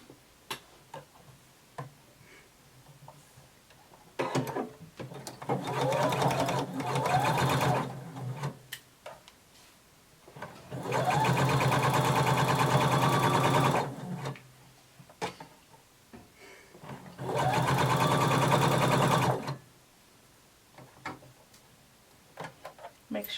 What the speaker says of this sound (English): now we're going to sew 5/8 of an inch all the way around.